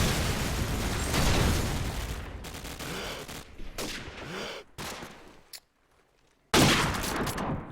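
Sniper rifle fire in a Call of Duty 4 Promod competitive match: loud sharp shots and bursts of in-game gunfire, a quiet gap, then another loud blast near the end.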